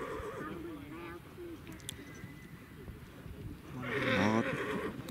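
Horses neigh at an outdoor kokboru training session for a regional team in Osh. There are whinnies early on and a louder, closer one near the end, over a constant background bustle.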